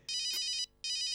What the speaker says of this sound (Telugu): డాక్టర్ దగ్గర నుండి ఫోన్ వచ్చింది